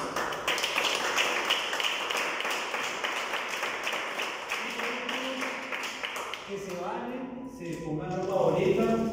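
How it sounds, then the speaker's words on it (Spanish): Group of trainers and participants applauding together, a dense patter of clapping that carries on for several seconds, with voices and chatter rising toward the end. "yo creo que nos ofrecemos súper aplausos"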